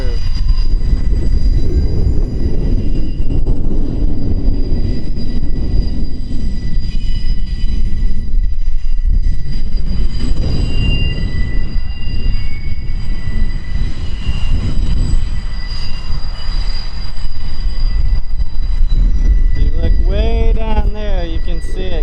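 A freight train rolls along the Norfolk Southern line at Fostoria's Iron Triangle rail junction, its steady loud rumble running throughout with wheel squeals rising toward the end, while a voice talks faintly underneath.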